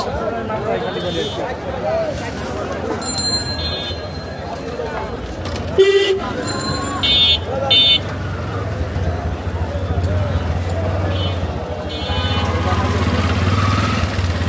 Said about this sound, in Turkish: Pazarın ortasına kocaman araçla giriyorsun ve korna çalıyorsun ya.